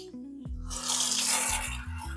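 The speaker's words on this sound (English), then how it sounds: "just get them running under a little bit of cool water here" Cool tap water gushes onto cooked pasta shells being rinsed in a kitchen sink, a close, steady splashing rush that swells and softens as the shells are moved under the stream.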